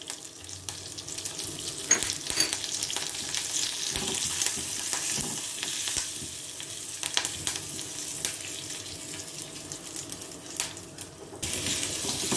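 Raw green mango frying in a coconut-oil tempering of mustard seeds, whole dried red chillies and asafoetida, a steady moderate sizzle with stirring scrapes and a few sharp clicks throughout.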